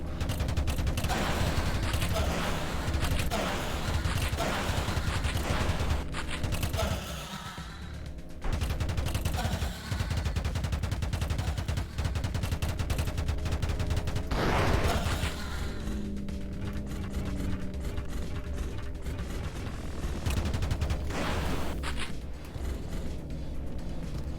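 Loud, dense gunfire from a video game gun that seems to fire blanks, a near-continuous barrage of rapid shots that runs almost the full length with only a brief dip partway through.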